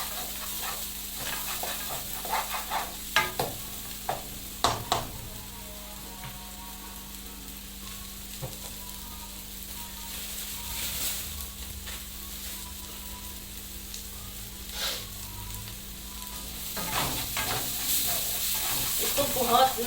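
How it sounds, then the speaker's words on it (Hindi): Boiled, ground peas for nimona sauté in a pan with a steady soft sizzle and occasional stirring scrapes, close and moderately quiet, with a faint hum underneath. "इसको बहुत ना भूनना होता है"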